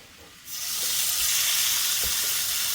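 After a quiet moment, a loud steady sizzle erupts as chicken pieces hit a small amount of hot oil in a frying pan and keep frying, with a few faint clinks of the pan.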